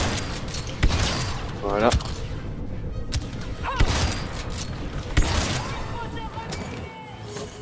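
Rifle fire in the Star Wars Battlefront 2 video game cracks out in a string of sharp shots amid a busy battle soundscape of blasts and mechanical noise, with someone talking over it.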